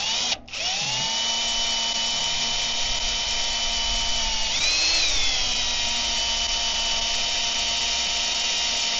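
A drill bores a bolt hole through steel armor plate on a Kenworth logging truck, with old bar oil used as cutting oil; a steady, loud, high whine runs throughout, with a brief stop near the start and a pitch dip midway.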